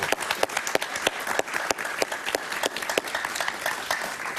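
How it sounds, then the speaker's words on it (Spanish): A studio audience bursts into loud, lively applause for a guest author, with sharp individual claps standing out over a dense crowd of hands for several seconds. "Un aplauso para Carol Prun Huber, por favor"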